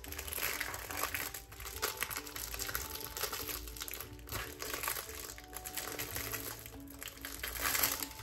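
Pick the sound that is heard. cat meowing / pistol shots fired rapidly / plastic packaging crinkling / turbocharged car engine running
plastic packaging crinkling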